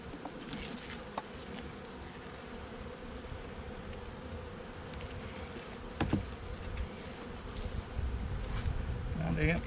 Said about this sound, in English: It's like all the bees are over here on one side.